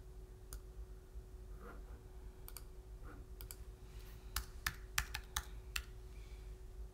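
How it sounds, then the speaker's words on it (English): Keys clacking on a computer keyboard during a Cricut Design Space class, with scattered light taps building into a quicker, louder burst of clicks near the end over a steady low background hum. "I typed it."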